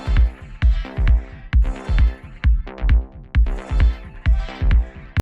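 Low-end synth bass loop from a sample pack at 132 BPM, pumping in a steady repeating rhythm with punchy hits roughly twice a second, loud and upfront with no voices.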